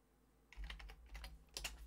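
Commands typed on a computer keyboard, a short close burst of quick key clicks beginning after a brief quiet pause, soft but clear, with no voices.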